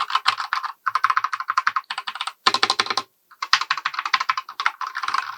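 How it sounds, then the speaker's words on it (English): Keys clack in quick bursts on a Corsair K70 Pro RGB mechanical gaming keyboard, white edition, with a short pause midway; the typing sounds close, crisp and alone, with no talk. "This is a beautiful keyboard, and just so you can kind of hear the keys,"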